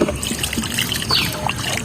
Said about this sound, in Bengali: এটা এই কড়ার মধ্যে ঢেলে দেবো, আর একটু সঙ্গে জলও দিয়ে দেবো।